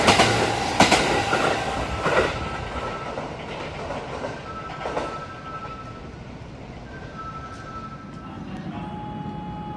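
A Kintetsu limited express train rumbles past on the rails with rhythmic clatter and a faint metallic squeal, loud at first and slowly fading into the distance.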